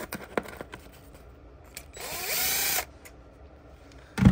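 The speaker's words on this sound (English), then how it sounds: "take an angled step drill bit or a drill bit that fits the size of your RCA jacks" An angled step drill bit bores out a hole for RCA jacks on a Kenwood L-07CII preamplifier under restoration, giving one short close whirring burst of under a second amid light handling clicks.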